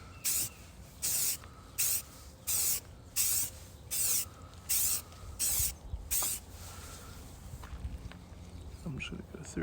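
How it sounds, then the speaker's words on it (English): Short bursts of Rust-Oleum deep forest green spray paint hiss onto a rifle in an even rhythm of about a dozen quick sprays, followed by quieter handling sounds. "Using deep forest green 1919 Rust-Oleum"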